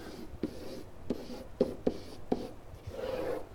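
Pen or pencil writing numbers by hand on paper, a series of short scratchy strokes and taps in an uneven rhythm, close and fairly quiet, with no talking.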